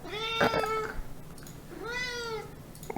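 A cat meows twice, close and clear, each meow drawn out with a short pause between them.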